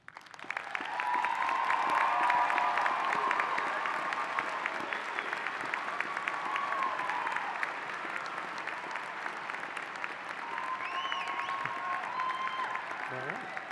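Commencement audience at a College of Natural Sciences ceremony applauds honors graduates, with steady sustained clapping from a large crowd that fills the hall, loud at first and gradually easing slightly over the span.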